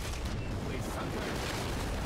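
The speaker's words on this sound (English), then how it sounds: "Shoot the cannons!" Ship cannons firing in a pirate naval battle in Pirates of the Caribbean Online, a dense stretch of booming blasts and rumble with a voice talking underneath.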